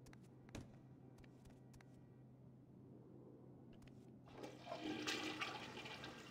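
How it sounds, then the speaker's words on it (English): A toilet flush in the GTA V roleplay video game, set in Los Santos, gushes in near and loud during the last two seconds after a quiet stretch with a few faint clicks. "Hear the flush noise?"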